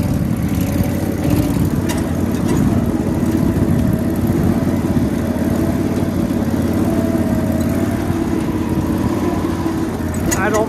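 A riding mower engine with paddle tires runs steadily and loudly at close range while freewheeling, a continuous droning rumble that holds even without changing pitch.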